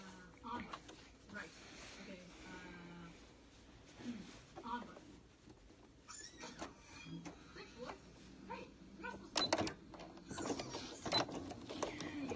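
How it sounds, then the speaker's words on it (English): A sewing machine stitches the wing of a cloth pad, running in short, quiet bursts of needle whir, with a voice talking throughout. "I'm going to start sewing on the wing here and leave myself a little tiny turn hole right here"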